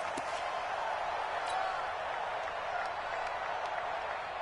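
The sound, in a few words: crowd cheering in American football video game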